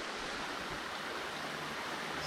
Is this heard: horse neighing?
no